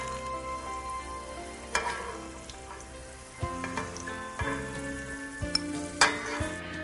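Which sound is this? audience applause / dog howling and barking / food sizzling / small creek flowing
food sizzling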